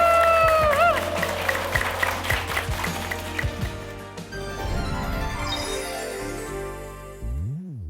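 An audience claps at the close of a talk concert while tonal music plays. The clapping fades out toward the end.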